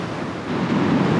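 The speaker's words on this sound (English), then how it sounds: "Back beach, Blackhead. Another dramatic rocky beach." Surf breaking on a dramatic rocky beach at Black Head on the Mid North Coast, a steady loud wash of churning water building slightly toward the end, with some wind rumble and no voices.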